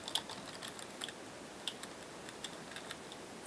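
Keys on a computer keyboard clatter in quick, irregular taps as code is typed, quiet and close with no voices.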